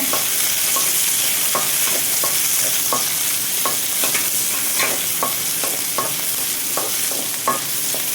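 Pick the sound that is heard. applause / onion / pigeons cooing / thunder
onion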